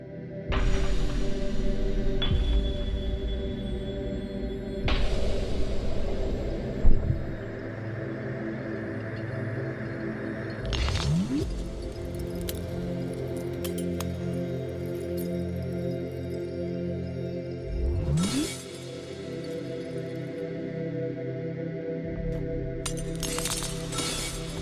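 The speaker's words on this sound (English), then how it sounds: "You can hear the lovely safety glass popping." Marbles smash through panes of safety glass, giving several sharp shattering crashes and crackling pops spread across the stretch, with tinkling glass between impacts over a steady background hum.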